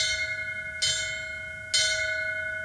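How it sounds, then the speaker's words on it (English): A memorial bell for a fallen firefighter paramedic strikes twice at an even slow pace, each clear metallic strike ringing on with a long sustained hum. "Bells are a symbolic tone of a firefighter's career."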